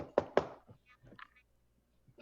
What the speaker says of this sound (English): I'm knocking the door.